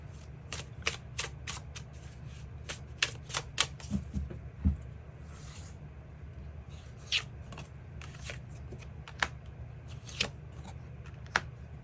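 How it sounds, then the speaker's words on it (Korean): Tarot cards are shuffled and drawn, a series of crisp riffles, slaps and flicks coming in bursts with short pauses, close but fairly quiet, no speech. "그 부분 추가 카드 뽑아보도록 하겠습니다"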